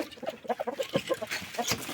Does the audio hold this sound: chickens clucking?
yes